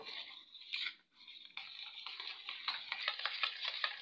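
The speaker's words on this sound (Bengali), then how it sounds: "টক দই আর বেসন ভালো করে গুলে নেব।" Yogurt and gram flour batter thinned with water being stirred in a bowl: soft, wet, scraping swishes in a quick, uneven rhythm, close and fairly quiet, with a brief pause near the start.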